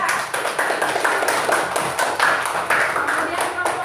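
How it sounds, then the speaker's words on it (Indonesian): A classroom of students applauds a student group after their presentation, a dense, steady patter of many hands clapping for about four seconds, with some voices mixed in. "Tepuk tangan untuk kelompok 3."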